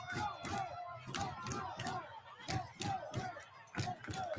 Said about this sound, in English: new life has been injected into this raucous crowd